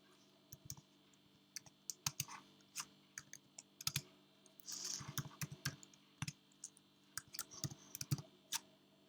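Someone types on a computer keyboard at a desk while entering terminal commands. Irregular close clicks and key taps come in short bursts with pauses, plus a few heavier keystrokes, and no one speaks.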